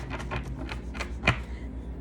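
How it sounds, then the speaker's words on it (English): Soft rapid riffling and flicking of tarot cards, a series of light papery taps with one sharper snap near the end, close and quiet. "I'm gonna shuffle one more time."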